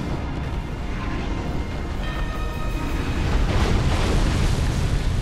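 A sustained, heavy explosion rumble in the video game Dark Souls, low and thick throughout, growing slightly louder toward the end, with faint tonal game sounds layered over it and no speech.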